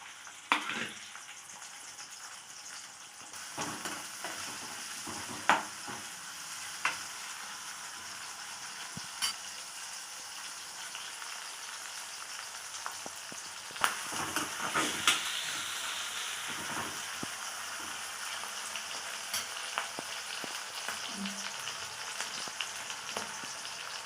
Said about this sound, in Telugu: ఆనియన్స్ వేగుతున్నాయండి.